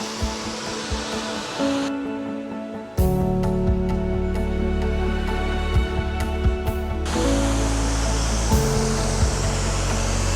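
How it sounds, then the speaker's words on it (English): Loud, steady roar of rushing water over a man-made lake spillway in Ohio, muddy water, with broadband hiss, close and constant, with brief shifts in tone as the sound changes partway through. "This is one of the most picturesque spillways I've ever seen from a man-made lake."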